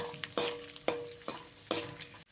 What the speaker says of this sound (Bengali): কাজু আর কিশমিশগুলোকে ভালো করে ভেজে নেব